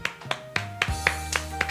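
A church congregation claps in thanks after a prayer, giving a series of distinct, evenly spaced claps at moderate volume over a sustained musical tone, with faint voices in the background.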